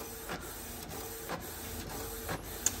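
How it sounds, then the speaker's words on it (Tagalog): A Canon MG3070S inkjet printer runs its print cycle: a steady mechanical whir broken by rhythmic carriage passes about every half second, close and fairly quiet. "Ayan, nagpe-print na."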